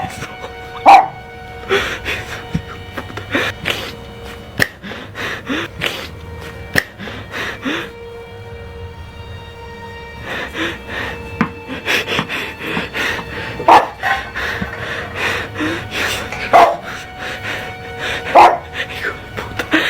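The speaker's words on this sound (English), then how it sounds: "Deja de ladrar, quédate acá." A dog barks repeatedly at night near a home doorbell camera, sharp loud barks in irregular bursts with some yips and panting, while a person talks to it in between.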